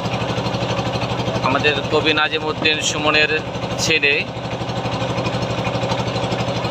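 A trawler engine drones steadily and loudly throughout on a boat trip on the Meghna river, while someone talks continuously over it.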